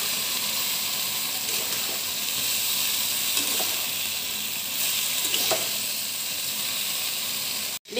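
Vegetables with turmeric and a stone-ground spice paste sizzle as they are sautéed in a pan, a steady close hiss of frying with occasional stirring scrapes, no talk, ending in a sudden cut.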